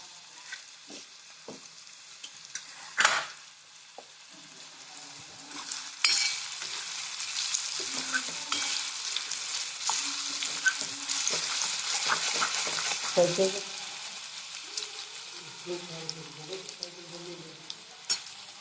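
Onions frying in a pan for a garlic, onion and coconut chutney, with a continuous close sizzle broken by repeated clacks and scrapes of stirring and a few sharp knocks against the pan.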